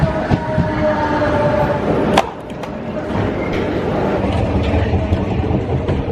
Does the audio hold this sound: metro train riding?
yes